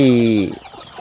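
A native Thai village chicken on a backyard farm gives a short, loud, close cluck-like cry that fades into quiet farmyard background noise.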